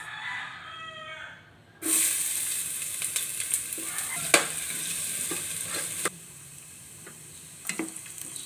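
Sautéing in a pan for sinigang with the head of a bidbid fish, a steady sizzle that jumps up as ingredients hit the hot oil, with scattered clinks and stirring scrapes and a rooster crowing faintly at the start.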